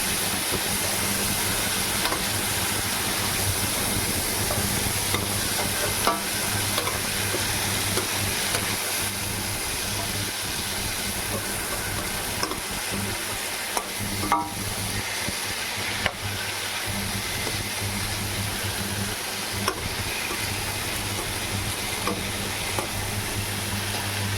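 Chunky cut potato, cauliflower and carrot sizzle and fry steadily in a hot pan while being stirred, a continuous close hiss with scattered scraping clicks and no talking.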